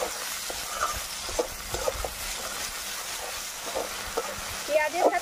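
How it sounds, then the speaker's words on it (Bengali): Chopped onion and tomato fry in a pan with a steady low sizzle, and occasional scrapes of stirring break through, growing a little louder near the end. "পেঁয়াজের সাথে টমেটো কুচি দিয়ে আর একটু ভালো করে ভেজে নিলাম"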